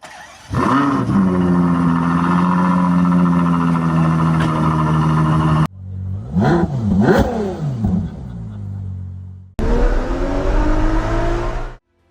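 A Ferrari 12Cilindri V12 supercar engine revs loud and close in three bursts, a long sustained high-pitched wail followed by sharp rising and falling blips, then a final strong rev that cuts off abruptly.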